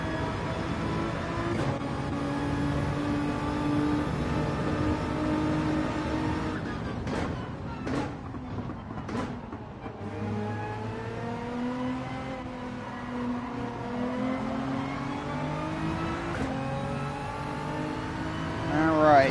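Race car engines in Gran Turismo 7 during a World Manufacturer Cup qualifying race, a steady droning roar that rises and shifts with revving and passing cars, heard under a commentator's voice.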